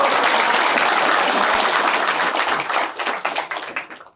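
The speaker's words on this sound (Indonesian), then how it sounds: "Boleh dong kasih tepuk tangan." Loud, dense applause from a crowd of young people at a gathering with Anies Baswedan, a steady roar of many hands that thins into scattered claps before stopping.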